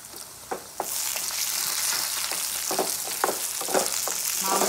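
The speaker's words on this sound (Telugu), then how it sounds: "జీడిపప్పు వేస్తున్నా" Cashew nuts frying in a pan of hot oil for mutton curry make a steady loud sizzle, broken by irregular scraping and stirring clicks from a spoon.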